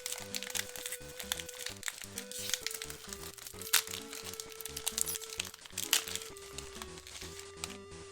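A Battle Spirits Saga card pack wrapper from the Dawn of History set is opened slowly, giving close, soft crinkling and tearing rustles that continue over a steady tonal background.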